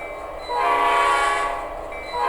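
A Nathan P5A five-chime locomotive horn from a model train sound decoder, fitted in an HO-scale Atlas GP38-2 or Athearn SD40 diesel, blows one sustained chord over steady engine rumble.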